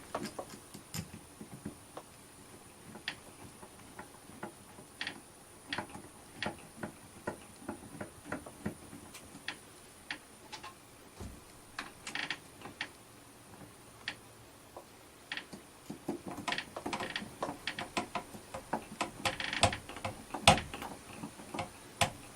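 Screws are started by hand while fitting a keyless entry lock onto an RV door: faint, scattered clicks and small ticking scrapes spread over a quiet stretch, growing busier and louder toward the end.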